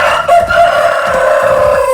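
A Jersey Giant rooster, which is sick, crows in one long, loud, sustained call that stretches across the whole moment, close by and clear.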